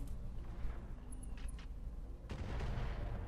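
Mortar fire during a base defense in the game HHR: heavy booming shots with thumping impacts, one sharp burst midway and a louder rumbling blast near the end.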